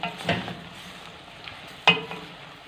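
Beans, onion and Charleston green peppers are stirred and sautéed in a pan, a soft steady sizzle under a few scraping stirs and one sharper clink of the utensil against the pan.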